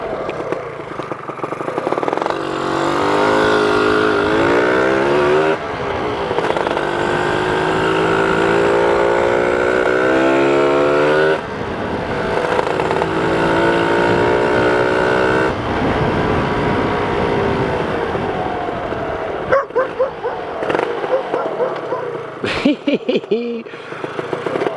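A Lambretta scooter engine runs steadily while being ridden, a loud continuous drone with shifting pitch as it revs up and settles, broken by brief dips between gears and a few short knocks near the end.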